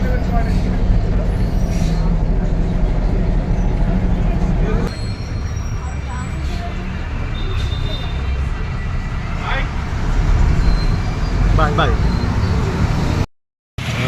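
A bus rumbles through road traffic with a continuous engine and road drone and a brief hiss or two that may be air brakes. A short dropout occurs near the end.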